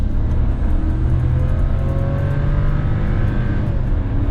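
A VW Tera with the 170 engine accelerates hard after slowing for a toll booth, a loud, steady engine roar with rising whine that climbs continuously, heard close from inside the car with no talking.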